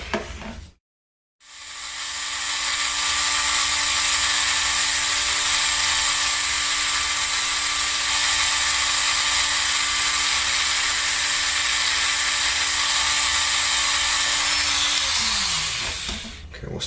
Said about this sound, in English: Okay, they don't fit, so I'm going to have to sand them down.